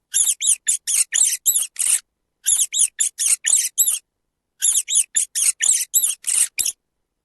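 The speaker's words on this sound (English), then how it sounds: "Rat, and the sound of rat." Rat squeaking in three bursts of rapid, high-pitched squeaks, about seven per burst, separated by short silences, loud and close with no talk.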